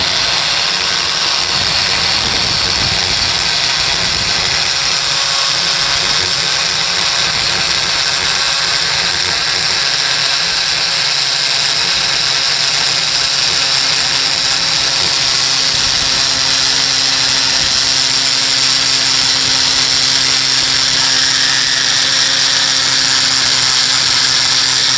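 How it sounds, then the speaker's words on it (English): A hammer drill bores a hole for a grab bar during a house renovation, a loud continuous grinding whine that runs steadily throughout with no talk. "you're going to have a hammer drill, all right, and drill a hole"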